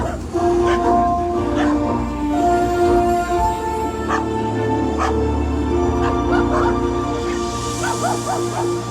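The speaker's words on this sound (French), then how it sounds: "regardez, autre type bien sûr de chien sur ce départ" Sled dogs at the start of a mountain sled-dog race stage in Aussois bark, yip and whimper excitedly, with many overlapping calls filling the scene continuously and loudly, close by.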